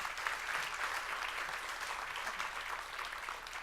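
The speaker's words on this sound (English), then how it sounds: "Let's give Wendy a big round of applause." Steady applause from a conference audience, an even wash of clapping that holds without break, moderately distant and fairly quiet.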